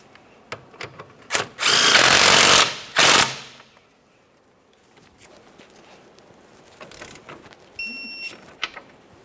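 Impact tool tightening rear upper control arm mounting bolts on a 2007-2017 Jeep Patriot, two loud close bursts of rapid hammering, the first longer, followed by quieter clinks and handling of tools.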